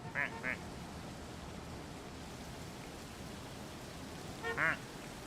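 Tiny cartoon ducks in the Interactive Ducks stream game quack in quick pairs, a double quack near the start and another couple near the end, over a steady hiss of background noise.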